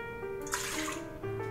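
Warm water poured into a bowl while mixing gluten-free Beaver Tails dough, a short close splash and trickle of about a second, with steady tonal background hum.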